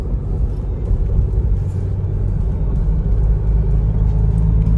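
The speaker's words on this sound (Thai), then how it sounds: "เสียงยางค่อนข้างที่จะเข้ามาในตัวรถเยอะอยู่" Steady low rumble and road roar fill the cabin of a 2022 Isuzu MU-X, a continuous muffled drone of tires rolling over pavement.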